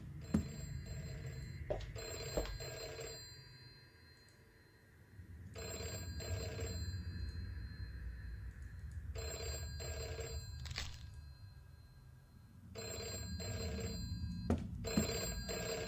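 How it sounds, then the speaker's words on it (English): A telephone rings in the horror video game Deep Sleep, sounding in repeated bursts of electronic bell tones with short gaps between them, moderately loud over a low ambient rumble. "Where the fuck is that phone?"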